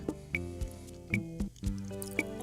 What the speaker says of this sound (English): Pour about half the container into the frying pan and keep stirring the mixture.